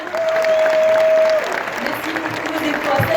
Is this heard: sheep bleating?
no